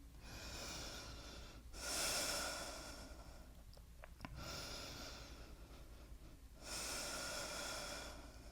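Slow, deep breaths during a yoga downward dog pose. Long, airy inhales and exhales alternate in an even rhythm, close and fairly soft, with short quiet pauses between them.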